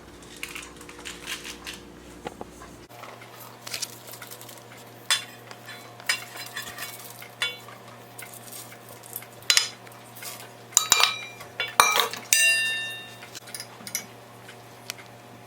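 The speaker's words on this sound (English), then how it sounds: "We use the rubber spatula to mix the dough until it's well combined and no dry flour is visible." A rubber spatula mixing thick chocolate chip cookie dough in a bowl, with irregular scraping, knocking and clinking against the bowl, close and sporadic over a quiet background hum.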